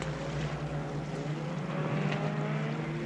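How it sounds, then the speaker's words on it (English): A Zodiac inflatable boat's outboard motor runs at a steady, loud drone with a constant low hum throughout, no voices. "The noise of the Zodiac frightens the baby."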